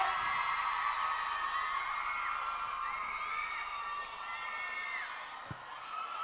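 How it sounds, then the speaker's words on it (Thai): A large crowd at a Sunkist product launch event in Thailand cheers and screams steadily throughout, high-pitched shrieks rising and falling over a continuous roar of voices. "เสียงกรี๊ดดังๆให้กับพี่พี่กรีด"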